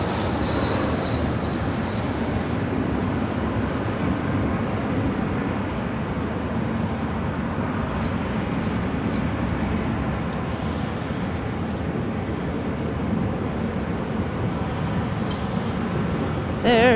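An airliner on approach to land at LAX, passing over West Los Angeles on the downwind leg, gives a steady, loud broadband engine roar that holds for the whole stretch.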